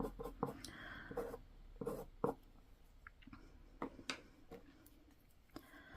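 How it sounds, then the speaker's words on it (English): Pen tip drawing on fabric in a quiet room, a dry scratching and rubbing with short irregular strokes and light ticks, close and faint, no talking. "This can also draw on fabric"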